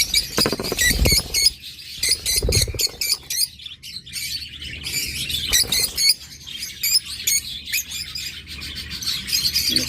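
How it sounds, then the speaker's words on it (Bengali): Green opaline Fischer's lovebirds at a bird farm give off dense, rapid high chirps and tweets, many birds calling over each other continuously and fairly close, with a few lower thumps in between. "গ্রিন অপালাইন নন রিংয়ের, আর আগের যেগুলো দেখছেন গ্রিন অপালাইন ওগুলো হলো ফিশার অপালাইন রিংয়ের বার্ড, রিংয়ের পাখি"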